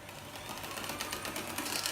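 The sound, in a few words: electric whisk beating egg whites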